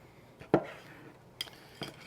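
A Tombro knife slices a grilled steak fillet into strips on a board beside a PK 300 grill, giving three quiet, separate cuts with knife-on-board clicks, the first the sharpest, set against faint background noise.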